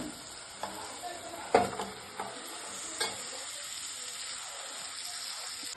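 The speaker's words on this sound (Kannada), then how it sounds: "ಬೇಯಿಸಿಟ್ಕೊಂಡಿರುವಂಥ ಬೇಳೆ ಹಾಕ್ಕೊಳ್ಳೋಣ." Cooked lentils being stirred into spices in a pot for bele saaru, heard as a soft sizzle with a few distinct scrapes and a wet plop, quiet and close.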